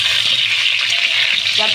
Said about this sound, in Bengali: এখন আলুগুলো আমি ছেড়ে দেবো তেলের মধ্যে। একটু ভালো করে নেড়ে দেবো